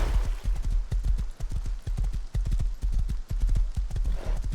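Horse hooves clip-clop in a steady, quick rhythm while riding in the survival game Rust, the evenly spaced hoofbeats close and fairly loud, running alone with no talk over them.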